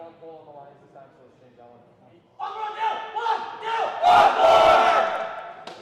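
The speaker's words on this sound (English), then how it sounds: "big cheer there, led by Brady" Crowd cheering at a men's volleyball game in a gym, starting with a quiet chant and then a sudden loud rise into sustained shouting and cheering from many voices.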